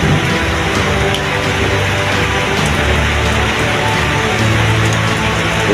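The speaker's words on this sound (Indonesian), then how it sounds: "Ini bolo hujan abu di Pronojiwo bolo." Volcanic ash falls like rain at Pronojiwo during a Semeru eruption, making a dense, steady pattering hiss that stays loud and unbroken, with no voices.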